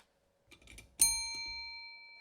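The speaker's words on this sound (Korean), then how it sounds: "들립니까 종소리?" A single bell struck once during a church sermon rings out clearly and decays slowly with a long, steady tone, after a few soft, muffled sounds.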